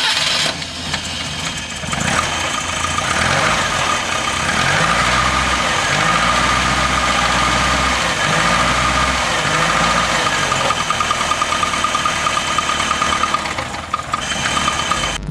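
An FSO Polonez car engine cranks and catches, then settles into a loud, rough idle with a steady throb and slight knocking that continues to the end.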